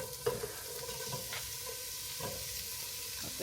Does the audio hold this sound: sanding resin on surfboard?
no